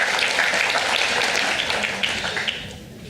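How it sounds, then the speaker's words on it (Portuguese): Audience at an insurance conference panel applauding, a broad, steady wash of clapping from a large room that begins full and gradually tapers off toward the end. "Recebo os aplausos de todos desde já por sua presença."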